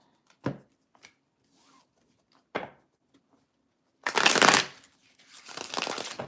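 A tarot deck is handled up close with a couple of short taps and riffles, then two longer bursts of crisp shuffling.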